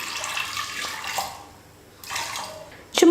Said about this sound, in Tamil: கடலைப்பருப்பு முழுகிற அளவுக்கு தண்ணி சேர்த்துக்கலாம்.